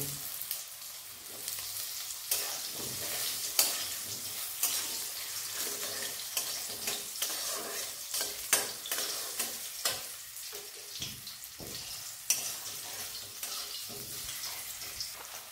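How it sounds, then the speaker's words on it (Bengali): Hard potatoes frying in a pan beside palak and other vegetables, giving a dense, continuous close sizzle with frequent scraping stirs and light clinks of the spatula throughout. "এবার আলুটা একটু ভেজে নেব।"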